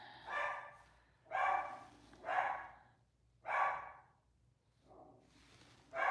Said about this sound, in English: Sorry, the dog is barking.